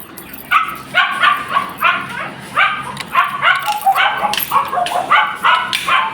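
Dogs bark repeatedly at close range, a rapid, uneven string of loud yips and barks, some overlapping.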